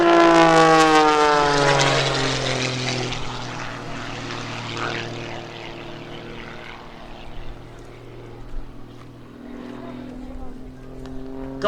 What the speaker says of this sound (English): Going vertical, coming in from the right here, rolling the airplane around.